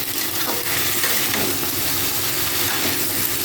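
Potato pieces fry in hot oil in a pan for a Bengali dish, giving a steady, close sizzle with occasional stirring scrapes and no voices.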